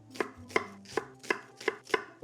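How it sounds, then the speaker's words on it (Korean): An onion is chopped roughly with a knife: six crisp, close chops on a board in an even rhythm, with no voices. "투박하게 썰어주세요."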